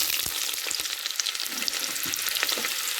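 Sliced onions frying in hot oil with black pepper for chicken pulao, a dense, steady crackling sizzle close up, with a few soft knocks of a spoon stirring.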